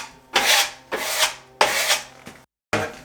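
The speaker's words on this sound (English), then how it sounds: "I will just take and scrape off these lines" A drywall knife scrapes plaster lines off a repaired drywall surface in four firm, close strokes, each a loud rasping swipe with a short pause between them.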